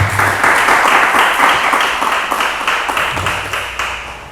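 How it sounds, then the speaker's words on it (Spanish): A church congregation claps for Jesus Christ in a loud, rhythmic burst of hand claps in a regular beat that slowly fades, alongside a low hum. "Vamos a dar un fuerte aplauso al Señor Jesucristo"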